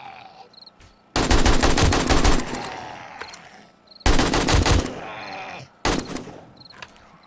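Bursts of rapid automatic gunfire in the survival game 7 Days to Die during a horde night, three loud volleys separated by brief pauses, with no talking.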